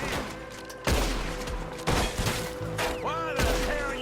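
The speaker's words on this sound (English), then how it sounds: "gunfire erupts from surrounding area, and the culprits spring their ambush" Gunfire breaks out in a video game ambush, with sharp shots and heavy booms hitting at irregular intervals over a busy mix of music and effects.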